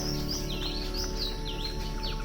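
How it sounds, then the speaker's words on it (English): Birds chirp and tweet repeatedly over a steady low hum, short bright calls coming close together, in the Northern Territory outback of Australia. "you got all the birds chirping"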